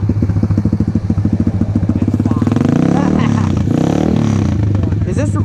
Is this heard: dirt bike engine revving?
yes